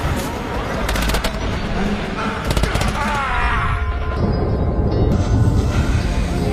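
Gunfire in a war-film flashback as soldiers are shot down by the enemy, heard as bursts of rapid shots over a dense, continuous battle mix with music-like tonal layers.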